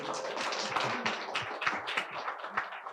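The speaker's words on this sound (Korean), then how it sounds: "두 분은 베스트 앙상블상이 있으면은 박수 한번 주세요, 우리 두 분." Applause from an audience at an art talk event, a dense continuous patter of many hands clapping at steady, moderate loudness for the whole stretch.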